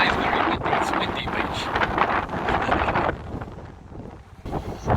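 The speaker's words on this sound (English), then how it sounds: "But today's very windy" Strong wind buffets the microphone at Safety Beach on the Mornington Peninsula, roaring continuously and easing slightly near the end.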